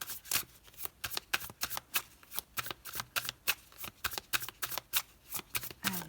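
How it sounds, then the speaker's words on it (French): Tarot cards shuffled and laid out on a table, a quick run of crisp riffling flutters in a steady rhythm, close and fairly soft, with no one speaking. "Allez, on va poser les 6 cartes."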